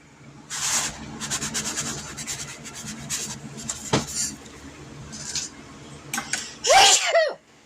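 A single loud, sharp sneeze near the end, following a stretch of soft rubbing and scraping kitchen noises while cooking bourbon apple sauce pork steaks.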